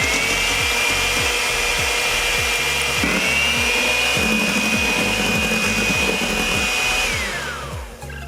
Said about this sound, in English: Add 2 tablespoons of sugar into the 7 egg white. And now it's time to whisk again.